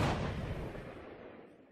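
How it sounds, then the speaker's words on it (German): A single gunshot effect in a German audiobook booms loudly at the start and then rumbles away as a long decaying echo, with no voice over it. "peitschte ein zweiter Schuss."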